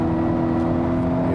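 A Volvo V90 T5 estate speeds up from 100 km/h in dynamic mode, its engine giving a steady, even drone heard from inside the cabin.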